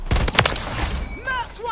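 A rapid burst of video game gunfire, several sharp close shots in quick succession, followed by brief whooshing effects, with a voice underneath.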